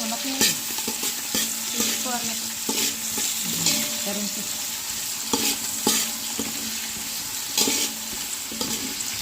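Tomatoes and green chillies being stirred in a frying pan for chicken biryani, a steady sizzle with repeated scraping stir strokes, close and continuous, with no talk.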